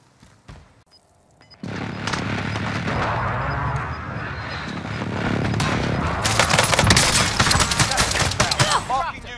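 A battle royale video game firefight with rapid gunshots and bursts, quiet clicks at first, then dense, loud volleys building toward the end, with players talking over the shooting.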